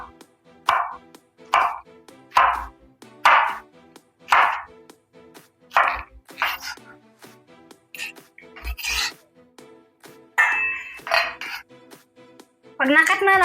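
A knife chops pineapple into small pieces on a board, giving a series of sharp, close, regular thuds about one per second, with a few scraping sounds and brief talk near the end.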